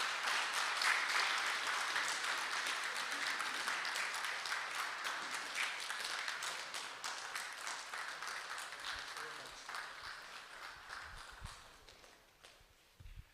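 Lecture-hall audience at a founders day event gives a round of applause, a dense clapping wash that starts strong and fades gradually over about twelve seconds, with a few faint shuffles and thumps near the end.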